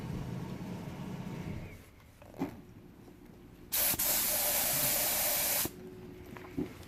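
Spray gun set just under 40 psi, spraying automotive touch-up paint on a Ford Edge rebuild: one loud, steady hiss of about two seconds, bracketed by quieter workshop handling noises and a couple of small knocks.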